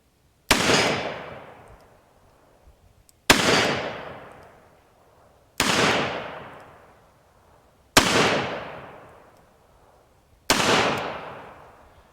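Five sharp revolver shots from a Smith & Wesson 342PD fired at a target, evenly spaced about two seconds apart, each a loud crack with a ringing decay.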